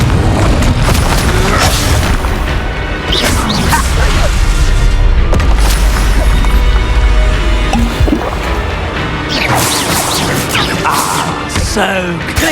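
Spell combat in Hogwarts Legacy with the Confringo fire spell, loud booming explosions and crashing impacts layered over dense game effects and music, with a voice shouting spell names during the fight.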